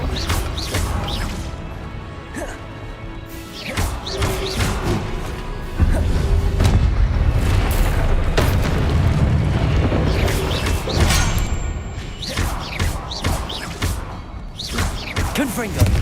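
Fiery Incendio spell blasts burst in Hogwarts Legacy, several loud crashes and whooshing booms scattered amid combat clatter and impacts, with a voice talking over them.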